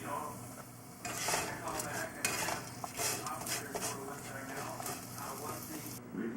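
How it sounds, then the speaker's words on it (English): Green onion tossed into a hot pan of green peppers, a close stirring scrape and clatter of utensil on pan over a soft sizzle, with talk throughout. "I'm just gonna throw in the green onion for a few minutes and then take it off the heat."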